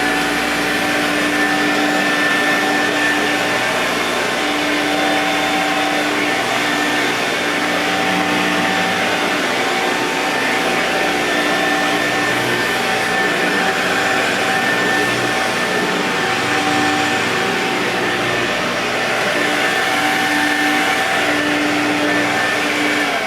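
A vintage Electrolux 560 electronic upright vacuum cleaner runs continuously, a loud steady motor whine with a constant tone that holds for the whole stretch, close up and with no talking.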